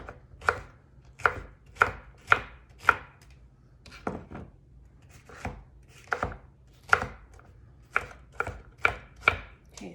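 Knife chopping jalapeno peppers on a cutting board, a steady run of close, crisp cuts in uneven bursts, heard alone with no talk.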